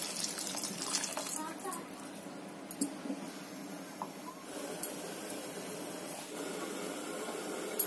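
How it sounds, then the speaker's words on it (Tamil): Water is poured into a pan of simmering tomato chutney on the stove, a faint, soft trickle and splash heard quietly over low kitchen background noise. "தேவையான அளவு தண்ணி சேர்த்துக்கலாம்."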